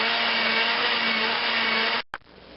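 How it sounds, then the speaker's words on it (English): A blender blending peppers whirs loudly and steadily for about two seconds, then shuts off, followed by a short clunk. "Into the blender, and that's simply just to make it easier to blend."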